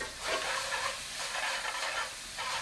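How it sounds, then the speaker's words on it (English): Garlic and ginger paste sizzles in a hot pan with a close, steady crackling hiss that swells and dips slightly. "Can you hear that sizzling now?"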